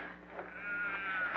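Sheep bleating in a pastoral radio drama scene, a single drawn-out wavering bleat sustained for over a second, close and clear without voices.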